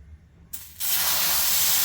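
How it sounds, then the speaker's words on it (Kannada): Oil meeting a hot dosa tava erupts into a sudden, sustained sizzling hiss after a brief quiet moment, loud and close, continuing steadily to the end. "ತವ ಚೆನ್ನಾಗಿ ಕಾದ ನಂತರ ಒಂದು ಸ್ವಲ್ಪ ಆಯಿಲನ್ನು ಹಚ್ಕೋಬೇಕು"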